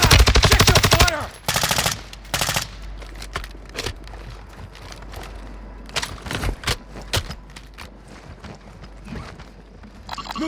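Gunfire in the Warzone 2 video game: a loud burst of rapid automatic fire opens, then scattered single and short bursts of shots crack on and off through the rest of the stretch.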